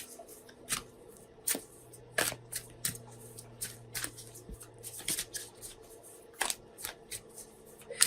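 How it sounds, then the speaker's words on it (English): Oracle cards being shuffled in quick bursts of crisp riffling and soft slaps, close by, with pauses between rounds and a faint low hum underneath. "I'm shuffling our Sacred Traveler Oracle cards."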